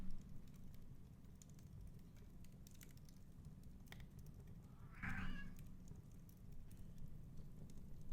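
A cat close to a microphone gives a short, faint meow-like growl midway through an otherwise quiet indoor stretch, with soft tapping and background hum around it and no talking.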